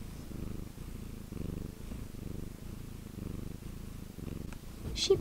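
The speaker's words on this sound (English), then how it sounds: "She purrs really loud" A cat purrs close by in a steady, rhythmic rumble of repeated pulses, continuing throughout with a small rustle near the end.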